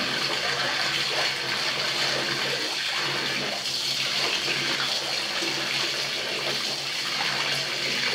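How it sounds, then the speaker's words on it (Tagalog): Tap water running steadily while laundry is washed by hand, a loud continuous rushing and splashing stream that stays even throughout with no break or voices. "pag naglaba ako guys, hindi ko pinapatay yung tubig"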